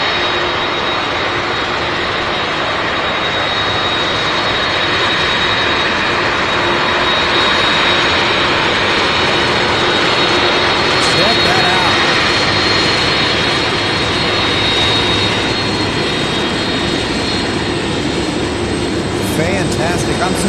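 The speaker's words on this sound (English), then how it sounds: "Up close, personal look at the MD-11 coming down taxiway Alpha." An MD-11 jet taxiing at night on an airport taxiway, its engines producing a loud, steady, broadband roar with a high whine that fills the whole stretch without pause.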